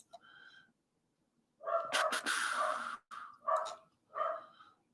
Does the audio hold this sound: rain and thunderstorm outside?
no